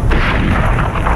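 Heavy cannon fire from a big gun in a video game battle, a loud continuous barrage of booming blasts filling the whole moment with dense low rumble.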